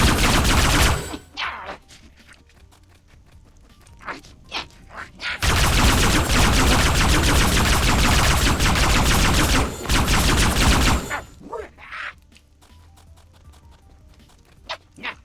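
Gunfire from Grunt weapons in Arma 3 with the OPTRE mod: loud sustained automatic bursts fill two long stretches, with scattered sharper single shots and quieter gaps between them, no talk.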